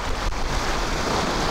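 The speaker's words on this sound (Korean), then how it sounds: "파도도 세고" Strong sea waves and cold spring wind batter a boat during sea fishing off Korea, a loud, rough rumble of surf and wind buffeting the microphone without any talk.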